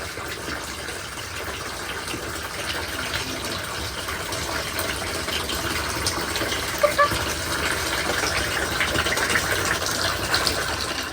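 Warm bath water sloshing and trickling around an injured Polish chicken named Phyllis as she soaks, a steady close wash of water with small splashes and no talking.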